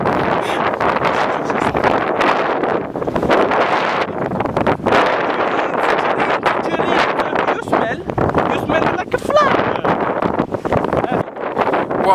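Strong wind in Iceland buffets the microphone with continuous loud roaring gusts and rumble, while people talk underneath.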